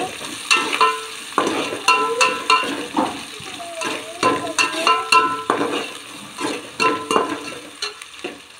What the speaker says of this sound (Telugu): ఒక ఆనియన్, కొంచెం బ్రౌనిష్ కలర్ వచ్చేలాగా ఫ్రై చేసుకోవాలి.